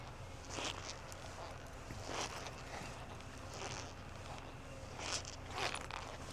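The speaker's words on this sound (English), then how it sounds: "let's put those zippers back" Zippers on a steerhide leather biker jacket are pulled in several short rasping strokes, moderately close, spaced over a quiet background with a low hum.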